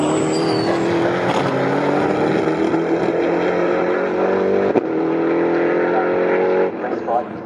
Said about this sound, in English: the driver of the number 22 car as he makes his way back out of Williams and onto the Bentley straight